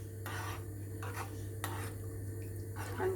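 A spoon scrapes and clinks around a pot of chicken and mushroom casserole in several uneven strokes, close and clear over a steady low hum from the stove.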